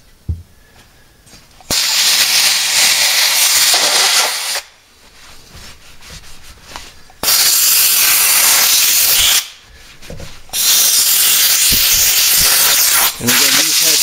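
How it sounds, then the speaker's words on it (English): Bursts of compressed air blast across freshly cleaned engine cylinder heads, three long loud hissing spurts with short pauses between them, close and dominant. "So I'll take some compressed air and give this a little blast out here."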